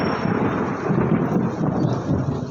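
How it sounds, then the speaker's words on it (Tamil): Heavy rain pouring at a hill station, a dense, loud, continuous roar of rainfall with rumbling low tones and no voices. "மழை ஓவராக இருக்குது."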